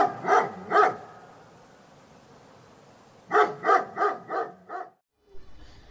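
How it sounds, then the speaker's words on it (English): A dog barks in two sharp bursts, then after a quiet pause lets out a quicker run of five barks, moderately close and alone with no talking. "Listen to the audio of dog barking."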